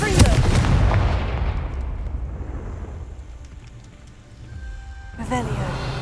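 A Confringo fire spell erupts in Hogwarts Legacy with a heavy crackling blast that rumbles and slowly dies away, then a fresh burst flares near the end.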